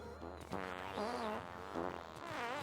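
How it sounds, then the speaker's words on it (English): Puffer creatures in the video game Factorio make a string of buzzy, wavering fart noises, loud and close, rising and falling in pitch across several bursts with no talk over them. "Gosh, those fart noises."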